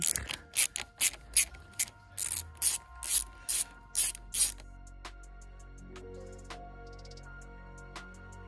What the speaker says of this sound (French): il faut enlever toutes ces vis là